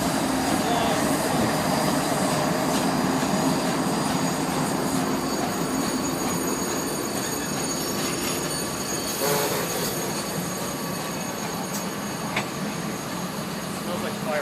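Nickel Plate Road steam locomotive no. 765 departing Cleveland, a loud continuous rumble of rolling rail cars and wheels with occasional squeals, steady throughout, with faint voices nearby.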